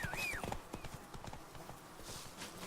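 Horse hooves clip-clop at an easy pace in The Witcher 3, a steady run of soft thuds under a whistling tone and game ambience, fairly faint.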